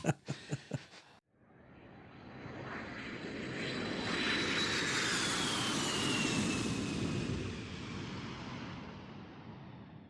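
An airplane's engines roar steadily as the jet taxis in to park at the jet bridge, the sound swelling after a few short knocks and holding loud and broad before easing slightly.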